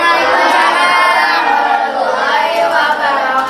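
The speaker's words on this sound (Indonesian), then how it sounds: "Tepuk tangan." A crowd of teachers at a physical education training session in Depok claps and cheers together, loud and close, with voices mixed into the dense, continuous noise.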